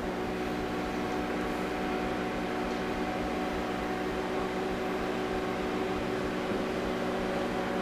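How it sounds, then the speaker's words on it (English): A microwave oven hums steadily, a constant mechanical drone with a whirring fan, running alone without any change. "I want to put it in the microwave for a few seconds to sort of liquefy it"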